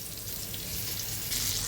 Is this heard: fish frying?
yes